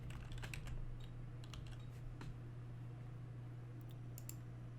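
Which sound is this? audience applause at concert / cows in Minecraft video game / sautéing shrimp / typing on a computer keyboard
typing on a computer keyboard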